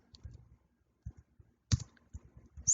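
Typing on a computer keyboard, scattered light key clicks in a few quick clusters with short pauses between, close and alone with no talk.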